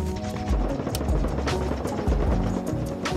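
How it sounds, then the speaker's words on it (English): Chinook helicopter passing overhead in Rust Console Edition, a dense steady rotor drone with low rhythmic thumps, fairly loud and continuous over a busy game soundscape. "Also, Chinook's coming over"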